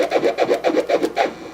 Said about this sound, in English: that's a chirp too, but it sounds a lot different.